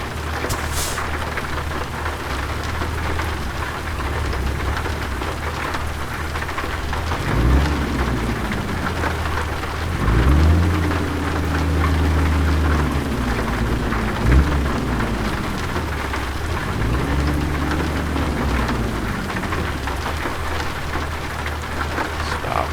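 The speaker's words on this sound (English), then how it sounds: "It's raining out there." Heavy rain in American Truck Simulator pours steadily in a dense hiss, with low rumbling swells rising and fading beneath it.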